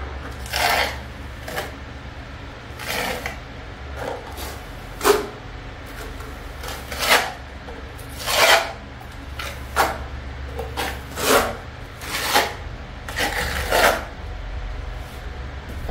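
A trowel spreads a thin layer of mortar, about 3 millimetres thick, across a wall, with repeated short scraping strokes in an uneven rhythm, close and moderately loud over a low background hum.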